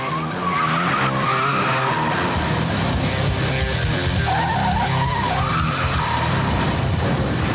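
A car skids sideways across a roadway and flings a police officer into the street, its loud, continuous sliding roar filling the whole stretch at close range.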